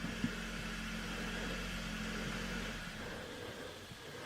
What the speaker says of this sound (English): He shut that engine off.